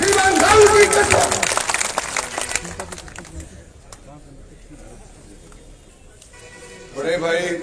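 Applause from a crowd at a political public rally, loud clapping at first that fades into a murmur before a short burst returns, with voices around it.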